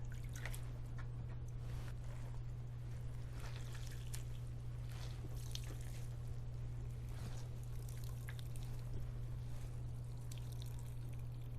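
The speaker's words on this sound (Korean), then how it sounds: "물기를 꼭 짜주세요." Blanched spinach being squeezed by hand to press out water, heard as close dripping and trickling water over a steady low hum, no talking.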